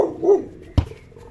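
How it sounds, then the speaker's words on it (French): A neighbour's dog gives a single sharp bark, loud and fairly close, preceded by a softer whine-like vocal sound, then quiet. "c'est vraiment le chien du voisin"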